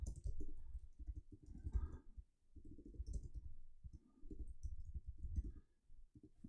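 Quiet computer mouse clicks and light keyboard taps come in irregular clusters close to the microphone, with no talking over them.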